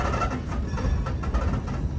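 Train wagons rumble steadily along the rails at Steamtown National Historic Site, with a rhythmic clickety-clack running close and loud and fairly constant for the full two seconds.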